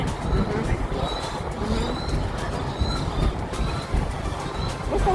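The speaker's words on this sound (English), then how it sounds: "What's those birds I hear?" Repeated short high bird calls over a loud, rumbling background with some voices mixed in, among sandstone-block buildings in Sydney, Australia.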